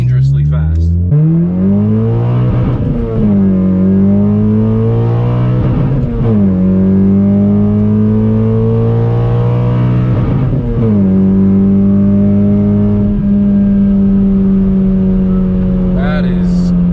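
A 9th-generation Honda Civic Si coupe pushed quickly along back roads, its mid-pitched engine climbing through the revs and dropping at each upshift several times, loud and close from inside the car.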